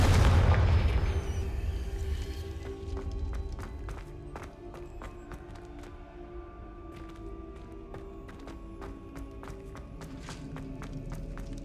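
A Confringo blasting spell in Hogwarts Legacy sets off a loud, deep explosion at the start that rumbles and fades over a few seconds, followed by a string of quick footsteps.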